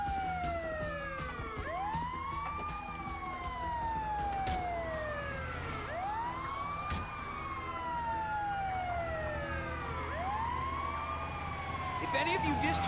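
Ambulance siren in Grand Theft Auto V wails in long rising and falling sweeps, repeating about four times, steady and fairly close, with engine hum underneath and voices talking over it.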